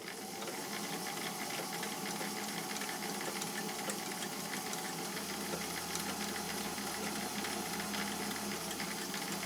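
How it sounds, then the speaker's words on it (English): A sewing machine motor whirs steadily at a slow, even pace, geared down to one-fifth normal speed, with a constant hiss and low mechanical hum and no voices. "You hear that motor is revving up, but it's slowing that machine down to 1/5 the normal speed"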